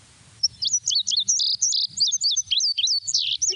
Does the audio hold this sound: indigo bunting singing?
yes